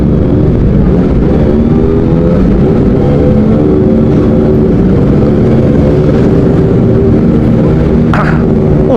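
A Kawasaki ZX25R motorcycle fitted with an Arrow Pro Race exhaust runs loud and close, a dense throaty engine roar holding steady throughout with only slight swells.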